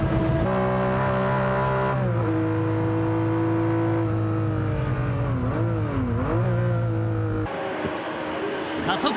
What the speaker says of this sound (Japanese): 加速は圧倒的に違うが、こりゃ中谷 GT2 まだまだ諦めていない感じ。